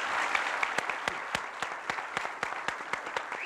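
Scattered applause from a small TV studio audience on a 1996 Turkish talk show, individual claps standing out sharply over a steady wash of clapping.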